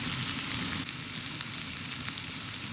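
Onions sautéing on a wood-fired rocket cooktop give a steady, moderate sizzle with a continuous crackling hiss and no voices.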